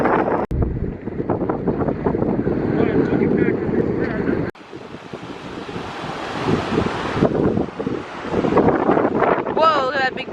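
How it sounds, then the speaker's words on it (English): Strong wind gusting at a Boston harbor near an old army station, a loud continuous roar of wind buffeting the microphone with surf underneath, steady throughout with brief dropouts and faint voices in places. "Wow, it's so windy."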